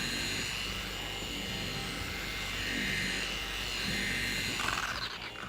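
An EVO 21 dual action polisher works polish into car paint in a small square, a steady close whirring buzz that holds level throughout and drops off slightly near the end.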